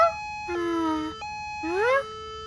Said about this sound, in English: Hey Amber, is that your siren?